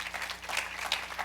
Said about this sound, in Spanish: Den un aplauso al Señor esta mañana.